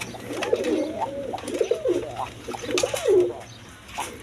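A pair of Rajgolla pigeons cooing, several rolling throaty coos in short bursts, close and fairly loud with faint background noise.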